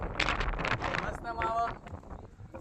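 Gusty wind buffets the microphone with low roaring bursts on an open hilltop during camping, and voices talk over it.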